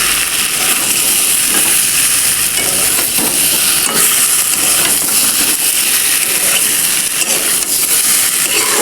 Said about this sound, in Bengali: তো ডিমটা হালকা করে নেড়ে নিতে হবে।